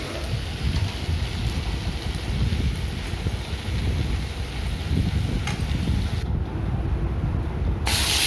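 Shrimp sizzling in a pan with taro stems, a steady, dense, rain-like crackle of frying that runs throughout, close and fairly loud.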